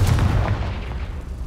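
A Confringo fire spell explodes in Hogwarts Legacy with a loud, close, deep boom that rolls off and fades over about a second and a half.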